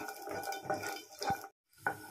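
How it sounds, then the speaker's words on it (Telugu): White lentils (urad dal) are lightly fried in a pan while a spatula stirs them, giving a rhythmic run of close scraping and rattling strokes, a brief pause, then another stir. "ఇప్పుడు ఇదే ప్యాన్లో మనం తెల్లబాయల్ని కూడా వేయించుకుందాము."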